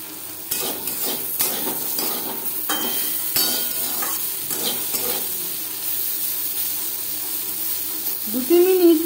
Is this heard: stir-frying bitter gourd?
yes